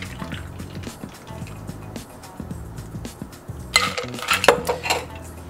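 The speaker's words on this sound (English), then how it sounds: "Cap that off into a shaker tin full of ice and give it a good shake." A cocktail shaker tin packed with ice is shaken, giving rattling clinks and a brighter, louder burst of ice hitting metal toward the end, close and without talk.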